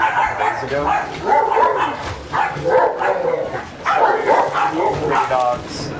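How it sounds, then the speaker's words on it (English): Several dogs bark and yip near a snowy sledding hill, their short barks mixed in with people talking over them throughout. "Dogs."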